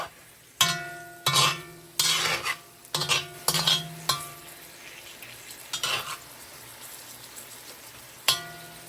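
Tofu frying in a pan, with a series of sharp scraping and clanking strokes of a utensil against the pan over a steady background sizzle, the stirring hits coming in quick clusters then tapering off.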